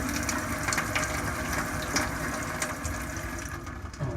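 Water runs steadily from a Moen kitchen sink faucet, a close, continuous rushing flow with faint clicks and no voices.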